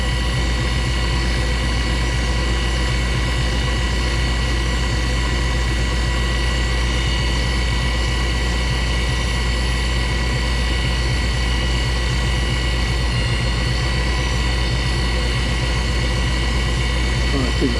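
DIY toolpost grinding spindle on a Myford lathe running at high speed, a loud, steady whine with a dense hum that holds unchanged throughout, close up.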